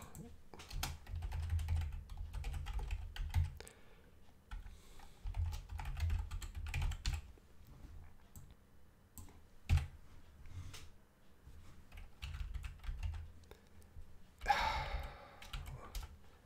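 Email address typed on a computer keyboard in an online English writing lesson, bursts of close key clicks separated by pauses, with a faint breath or sigh.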